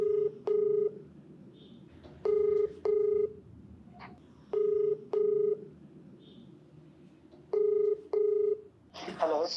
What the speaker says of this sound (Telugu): మేడం మీరు ఓకే అంటే ఒకసారి కాల్ చేస్తారు